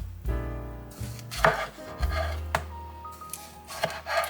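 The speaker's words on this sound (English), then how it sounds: "I like this recipe because it's a lot of rough chopping." A knife rough-chops butternut squash on a board: a handful of close, sharp thunks at irregular intervals, with hollow scraping between the cuts.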